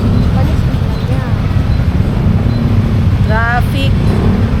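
Heavy, slow road traffic rumbles loudly and constantly close by, a dense low engine drone with a short burst of voices near the end.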